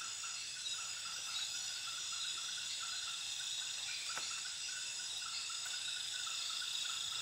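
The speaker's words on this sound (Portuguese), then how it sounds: "É sapo." Frogs and insects calling at night in the Amazon forest near Rio Preto da Eva, a dense steady chorus of high trilling and rhythmic croaks filling the dark surroundings, continuous and moderately loud with no talk.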